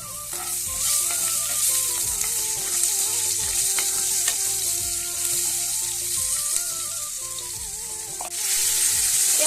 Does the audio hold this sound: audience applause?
no